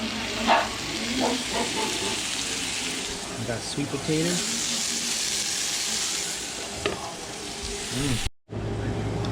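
Steady frying sizzle of sweet potatoes in a pan fills the clip, a broad hiss under a voice talking, with a few clinks and stirring sounds before it cuts off near the end.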